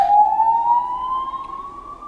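An ambulance siren passes outside during a FIFA 17 career-mode session: one steady, loud wail whose pitch rises slowly as it goes on, with no talk over it.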